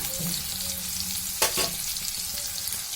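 Chopped onion and tomato fry in a pan for a sambar, giving a steady close sizzle with a brief scrape of stirring midway and no talk.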